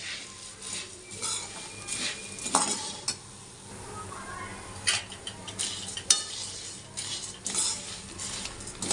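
A spoon stirs tempered puffed rice in a pan with curry leaves and turmeric, making scraping, rustling clinks against the metal and a faint sizzle, with irregular louder scrapes throughout and no talk.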